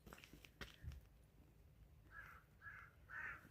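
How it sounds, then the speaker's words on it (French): Crows cawing outdoors in a quiet setting, three harsh calls in a row at a moderate distance, preceded by a few faint thumps and clicks. "Voilà, c'est les corbeaux."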